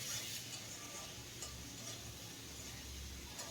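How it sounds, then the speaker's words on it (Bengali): Tomato with salt fries in a pan, a faint, even sizzle with soft stirring and light utensil clinks, close and quiet, no voices. "এখন 2 মিনিট এইভাবে টমেটোটাকে ভেজে নেব।"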